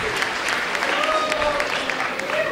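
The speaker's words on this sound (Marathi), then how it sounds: "इतक्या जोरात टाळ्या वाजल्या पाहिजे की आवाज गगनाला भिडला पाहिजे" An audience at the opening ceremony of a poetry class claps loudly and steadily in one dense, continuous burst, with voices faintly mixed in.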